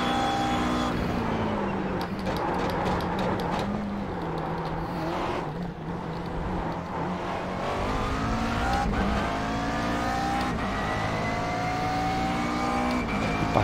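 A McLaren MP4-12C GT3 race car in the iRacing game screams at Monza, its engine droning loudly and steadily, then climbing in pitch as it accelerates through the gears, with no talk.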